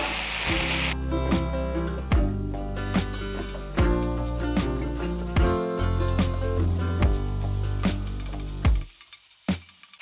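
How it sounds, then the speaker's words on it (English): Bacon strips spread across a hot Blackstone griddle sizzle with a continuous hiss and scattered pops, steady and close, over a tonal background and without voices. "So we'll just spread our bacon out across the top of the griddle"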